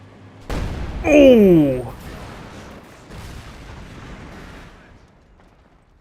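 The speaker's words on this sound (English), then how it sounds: "That is not how I expected the flak half-track to go down." A flak half-track in Company of Heroes 2 is blown apart by a loud, close explosion followed by a rumbling tail and lighter secondary blasts, with a man exclaiming over it.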